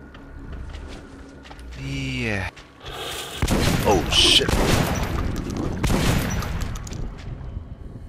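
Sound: gunshots in the video game Metro Last Light

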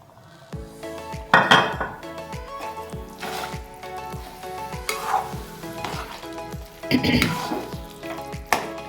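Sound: water poured into hot mustard oil and ghee, sizzling

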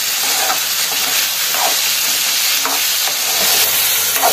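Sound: sautéing ivy gourd with rock salt

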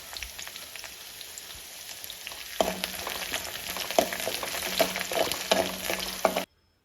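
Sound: ginger, garlic, green chili, curry leaves frying in oil

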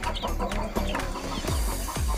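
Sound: young chicks in a chick pen

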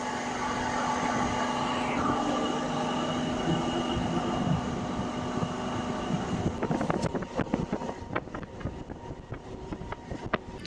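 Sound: Warangal–Secunderabad MEMU train running after leaving Ghatkesar

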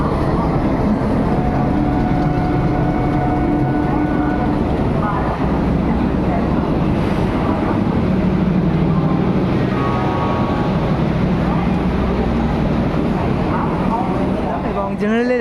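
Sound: Yoga Nagari Rishikesh train running, heard from inside a carriage

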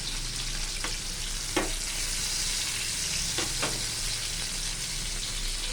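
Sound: pork and tomato chili paste stir-frying in a pan

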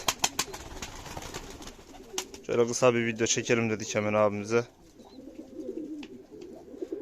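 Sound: pigeons cooing

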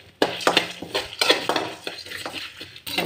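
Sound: dry roasting spices for mutton curry in a kadai

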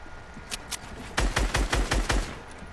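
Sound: drum shotgun firing in a video game

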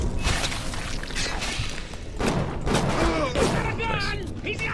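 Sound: gunfire in video game Bioshock

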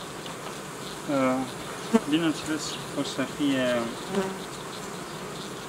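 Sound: bees buzzing at a beehive

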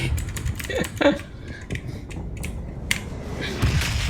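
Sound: computer keyboard typing

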